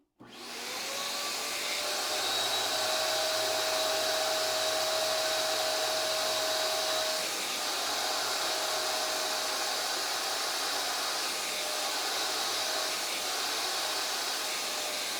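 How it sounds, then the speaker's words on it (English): A spot cleaner drones steadily and loudly while its soft silicone bristles work cleaning solution into a rug to lift crayon, a constant motor whine with a faint tonal hum and no voices. "Here I'm using the soft silicone bristles to just work the solution into the rug."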